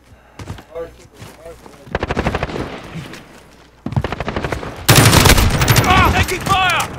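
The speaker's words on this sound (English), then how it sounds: "Taking fire!" Bursts of automatic gunfire in the video game Modern Warfare come in several loud rapid volleys that grow more intense toward the end, mixed with voices talking over the battle.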